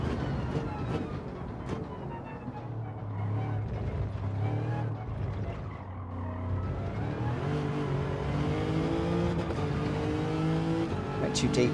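Car engine revving hard toward the rev limiter in Gran Turismo 7 racing game, a Subaru-themed session, with rising and falling engine tones running continuously and steadily loud, mixed with a speaking voice throughout.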